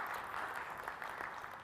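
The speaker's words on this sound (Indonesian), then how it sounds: "Kita berikan tepuk tangan yang meriah Bapak Ibu hadirin sekalian." Steady applause from an audience at a formal prayer ceremony in Jakarta, a soft continuous patter of many hands heard from a distance, fairly faint and even throughout.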